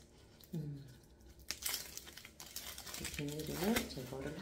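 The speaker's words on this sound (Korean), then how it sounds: "비닐을 제거를 하고요" Crinkling plastic wrap being peeled off a Daiso vitamin C shower filter, rustling in short bursts close by while someone talks over it.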